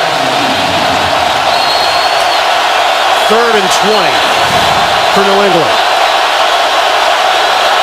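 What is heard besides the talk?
stadium crowd noise at Seattle football game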